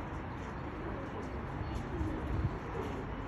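Pigeons coo softly in a loose, low murmur beneath a steady noisy background, with faint speech nearby.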